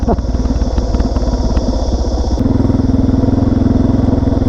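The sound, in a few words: motorcycle riding on a dirt track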